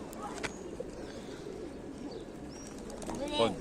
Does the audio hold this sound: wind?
no